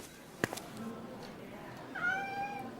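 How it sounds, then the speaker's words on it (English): Cats meow in a pet clinic's busy waiting room, one drawn-out meow clearly heard near the end after a soft knock, over a quiet murmur of background noise. "The cats were meowing."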